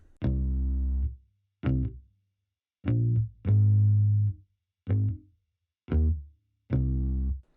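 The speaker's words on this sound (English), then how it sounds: "That's a Rickenbacker bass from a Contact that I always use." A Rickenbacker bass guitar plays a short riff of deep, punchy notes with brief gaps between them, upfront and without any other instruments.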